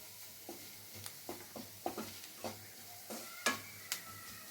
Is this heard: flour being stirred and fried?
yes